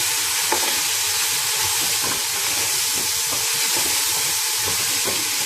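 Vegetables, paneer, cashew nuts, mint and coriander sautéing in a pan for a vegetable biryani, giving a steady, close frying sizzle with light stirring scrapes and no talk.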